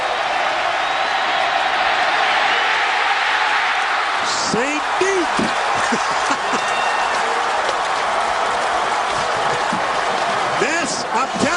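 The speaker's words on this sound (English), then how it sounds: "And now they're really going to get loud" Roaring crowd noise fills a college football stadium during Michigan at Michigan State on a third-and-nine, a steady dense wall of cheering with a commentator speaking over it.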